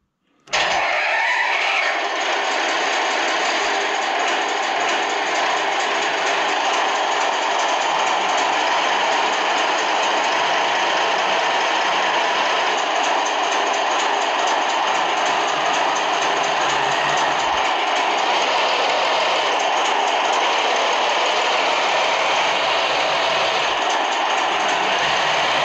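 An RC car sound module imitating a V8 engine, held at steady throttle through a speaker, producing a loud, sustained, buzzy engine drone that starts abruptly and holds nearly unchanged for the whole stretch.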